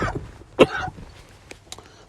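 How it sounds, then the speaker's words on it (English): A person gives a single sharp cough, a brief close burst amid quiet breathing and throat noise. "all that coughing, I ain't even smoking on nothing"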